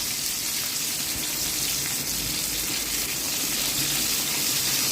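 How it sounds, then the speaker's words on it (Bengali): Sliced bitter gourd frying in oil in a pan, a dense, even sizzle like running water that continues without a break, close and fairly loud. "তো দেখো, উচ্ছেগুলো দিয়ে দিলাম তেলের মধ্যে। এবার ভালো করে উচ্ছেটা আমি একটু ভেজে নেব।"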